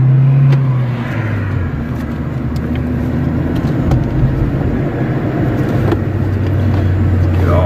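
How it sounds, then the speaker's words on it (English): A Ford Fiesta ST hot hatch idling and rumbling close up, a loud steady engine drone with a low hum shifting pitch as it runs, on a hot day. "Today we're gonna drive a Ford Fiesta ST."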